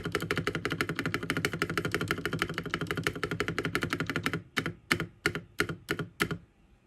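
Typing on an RK61 budget mechanical keyboard with rattly stabilizers on the spacebar and shift keys: a rapid run of close clacking keystrokes, then a few slower, separate, louder presses, with no talk.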